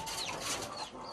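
A white Wyandotte hen with her chicks, soft close clucks and high peeping chirps over a steady outdoor background.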